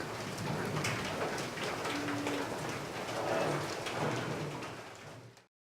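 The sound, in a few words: rain falling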